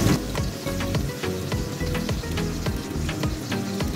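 Whole spices (two cardamom pods, two cloves and a little cinnamon) sizzle in hot oil in a home kitchen after pointed gourd was fried, giving a close, dense, continuous crackle and hiss with no talking.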